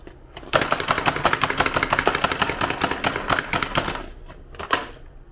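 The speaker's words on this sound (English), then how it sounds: "you just keep chopping it" A knife chops rapidly and continuously on a cutting board while ingredients are prepared for linguine with white clam sauce; the sharp, closely spaced strikes come fast and even, then slow to a few last chops.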